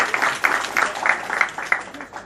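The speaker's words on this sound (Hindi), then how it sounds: "हम तालियों के साथ" An audience claps for a guest being welcomed to a Gita society gathering, a moderate run of hand claps with regular peaks over a steady wash of clapping. The claps sit close and fairly loud, with voices audible among them.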